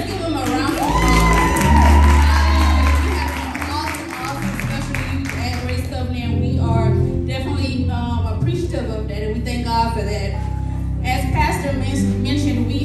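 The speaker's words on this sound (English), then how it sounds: "Let's give them a round of applause." A church congregation at a youth Sunday worship service bursts into applause and cheering, loud clapping mixed with whoops, shouts and children's voices, with someone singing or calling out over the crowd.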